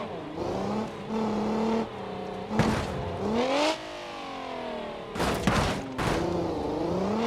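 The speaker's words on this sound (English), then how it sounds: "Again, pretty hard landing." In BeamNG.drive, a car engine drones and revs in a wasteland, broken by loud crashing impacts as it lands hard, with two clusters of heavy thuds before the engine resumes.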